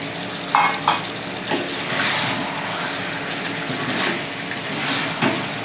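Chicken and fried potatoes sizzle in a wok over a medium gas flame, steady frying hiss broken by several sharp scraping stirs of a spatula against the pan.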